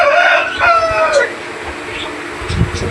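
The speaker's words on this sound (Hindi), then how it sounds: "ये भी मुर्गी है हमारी, ये भी मुर्गी है।" Chickens and a rooster in a farm shed, with a loud close crow rising and falling over the first second, then scattered clucks and rustling, and a brief voice near the end.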